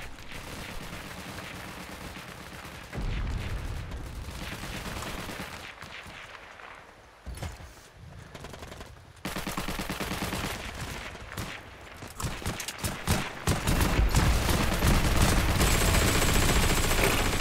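Gunfire in the WWII shooter Heroes & Generals, with bursts of rapid automatic shots and heavy reports coming in waves, some loud and close, others more distant, with brief lulls between volleys.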